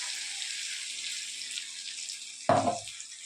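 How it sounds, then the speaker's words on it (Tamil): A brief wet splash and slosh of thick ground masala paste poured into a pan for fish curry, cutting through a steady hiss of sizzling in the background. "அரைச்சி வச்ச மசாலா ஊற்றுறோம்"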